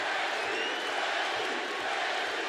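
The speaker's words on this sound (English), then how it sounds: "Glendale crowd getting behind one of their own, Justin Gaethje" Arena crowd cheering during a mixed martial arts fight in Glendale, a dense continuous roar of many voices filling a large hall at steady loudness, with faint shouts rising through it.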